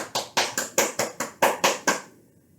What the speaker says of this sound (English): Should we come and clap our hands together?